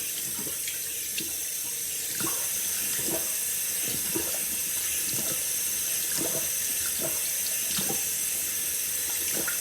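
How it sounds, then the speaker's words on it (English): A bathroom tap runs in a steady, close stream into a sink while a face is washed, with faint repeated splashes and hand movements in the water. "washing my face."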